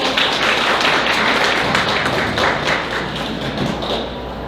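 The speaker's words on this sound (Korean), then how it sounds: "여러분 다시 한번 박수 부탁드립니다." Dense, steady applause from a conference audience at the 8th Gyeongsangnam-do regional social security council capacity-building event, a continuous wash of many hands clapping at even loudness throughout.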